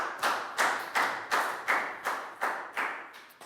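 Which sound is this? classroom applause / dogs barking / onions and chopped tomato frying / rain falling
classroom applause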